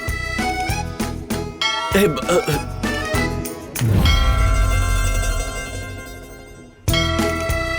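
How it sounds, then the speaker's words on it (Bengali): A bell rings in a Bengali television drama scene, a resonant sustained tone that swells and rings on for several seconds among music and dramatic sound effects. "এই ঘন্টাটা শুনতে পাচ্ছিস?"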